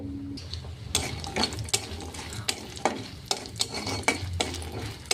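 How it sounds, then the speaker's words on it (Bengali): Lentil dumplings (bori) fry in mustard oil in a pan while drumsticks are being cooked, giving a steady close sizzle punctuated by about a dozen sharp spatula knocks and scrapes, with no talking. "এতে আমি কটা বড়ি ভেজে নেব"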